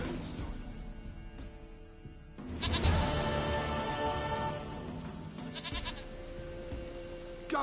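A goat in The Witcher game, with several drawn-out bleats over a layered game soundscape of music and ambience, the loudest cries near the middle.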